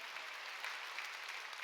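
Church congregation clapping during a Sunday worship service, a dense, steady wash of applause from many hands filling the hall, with no voices over it.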